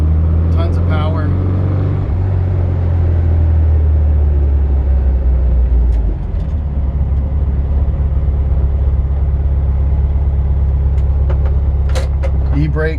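A 1973 Volkswagen Thing's engine drones steadily from inside the moving car, loud and low, with some handling noises and a brief shift near the start.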